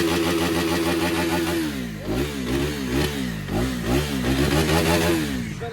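A Gen 3 KTM Duke 250 motorcycle engine idles with a steady throb, then is revved in several short rising bursts close to the listener, with no talking.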